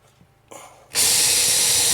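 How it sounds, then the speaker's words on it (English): Power drill on a building site: after a second of quiet with faint knocks, the motor bursts in loudly and spins steadily and close for the rest of the moment. "Oh, I'm hitting a screw."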